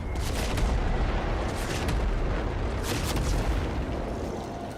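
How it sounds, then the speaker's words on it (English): Heavy cannon fire from the old Macross cannon in Warframe: a dense barrage of deep, rumbling booms and blasts repeating over about five seconds, loud and with no voices over it. "That was the old Macross cannon."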